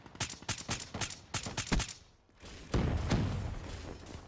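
Gunfire from a sniper rifle in Call of Duty: Black Ops 3, a rapid string of sharp cracks for nearly two seconds, a brief lull, then a denser stretch of heavy blasts and rumble with no talk.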